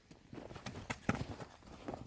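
A young Kyrgyz horse foal walks on the ground, its hooves making faint, uneven clip-clop thuds at close range for about two seconds.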